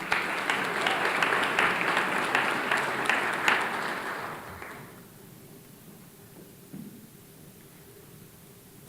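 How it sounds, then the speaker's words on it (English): An audience at a 2019 academic excellence awards ceremony applauds National Merit finalist students. The sustained, dense clapping fills the hall for about five seconds, then fades into a quiet room. "Let's give this incredible group of students another big round of applause, our National Merit finalists."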